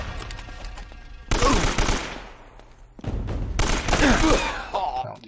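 Two loud bursts of AK rifle fire in Uncharted: Drake's Fortune, each a dense broadband blast with a ringing tail, separated by a quieter stretch with a low steady hum underneath.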